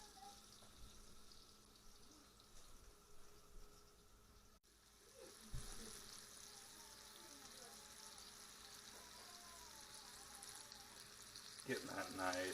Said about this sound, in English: just like about any fish, just fry it until it's golden brown